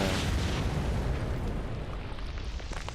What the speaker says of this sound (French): La petite grenade qui fait plaisir.